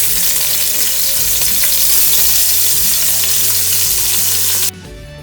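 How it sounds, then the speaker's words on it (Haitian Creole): Hot dogs fry in oil for a spaghetti dish, a loud, close, continuous sizzle over a low steady hum that cuts off sharply just before the end. "Là, on va mettre le dog là bien frit."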